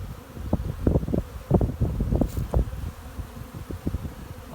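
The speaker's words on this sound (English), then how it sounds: "You see there's hardly any bees going in at the top, but lots going in at the bottom." Honey bees buzz in and out of hive entrances in spring, with close, uneven buzzing bursts from individual bees passing near the microphone over a faint outdoor wind hiss.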